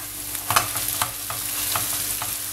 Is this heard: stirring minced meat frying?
yes